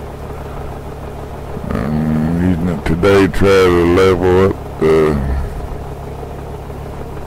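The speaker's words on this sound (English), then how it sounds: "This is a 1944 2N4 tractor." A 1944 Ford 2N tractor with a scrape blade idles with a low, steady engine rumble, while someone talks over it up close.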